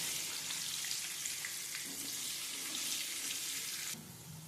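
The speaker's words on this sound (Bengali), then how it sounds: "আলুগুলো ভাজা হয়ে গেছে লাল করে এরপর আমি আলুগুলোকে তেল থেকে ছেঁকে তুলে নেব" Potatoes with turmeric and salt fry in hot oil with a continuous close sizzle and fine crackle, steady throughout, softening slightly at the very end, no speech.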